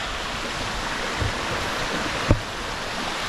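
Water running across a road near a caravan site at Bambarakanda in Sri Lanka, a steady, loud rushing wash with one brief knock partway through, and no voices.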